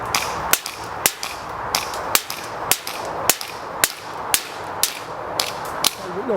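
ASG 1911 LawMan CO2 airsoft pistol fired repeatedly at a steady rhythm, about a dozen sharp loud cracks roughly half a second apart, each with a short gas hiss, heard close up with no talking.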